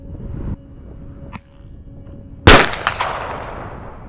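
A bird-deterrent sound cannon at oil company ponds fires a single loud, sharp blast that rings out and decays over a second or so, preceded by quieter ambient noise and a faint pop.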